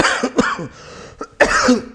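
Several short, rough coughs up close, bunched together in a brief fit with a small pause before the final louder cough.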